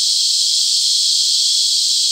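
Cicadas calling as one constant, loud, high-pitched buzzing drone, steady and unbroken throughout with no other sounds.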